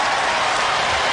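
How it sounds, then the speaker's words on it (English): A broad wash of audience applause fills a live robot combat arena at the close of an All-Star Championship grand final, steady and dense throughout with no pauses or single voices standing out. "a round of applause from the Dantomkia sporting side"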